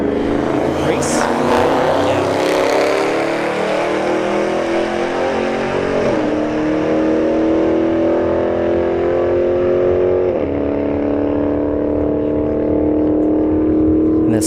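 A Dodge Charger Scat Pack drag racing down the strip roars loudly and continuously, engine pitch climbing through gear changes with two clear shift drops, heard alongside another car at a street drag race, with talk underneath.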